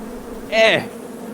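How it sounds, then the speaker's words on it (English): Bees buzz in a short, rising-and-falling burst lasting about a third of a second, fairly close over a low background hum. "Ah, Bees."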